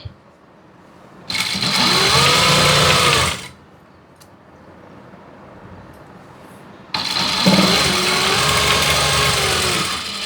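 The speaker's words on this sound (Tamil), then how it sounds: "இப்போ மெயின் துணியில் நல்ல பக்கமாக ஒரு தையல் போட்டுறோம்." Sewing machine stitching the main piece of chudithar fabric, right side up, in two loud bursts of steady whirring with a quiet pause between.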